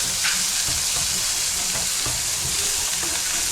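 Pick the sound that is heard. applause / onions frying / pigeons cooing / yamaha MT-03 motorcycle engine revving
onions frying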